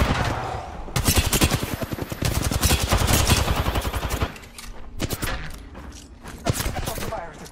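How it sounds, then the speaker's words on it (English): Rapid automatic gunfire in the shooter game Apex Legends, loud bursts of closely spaced shots rattling for several seconds, then a pause and shorter bursts near the end. "Shots fired at me."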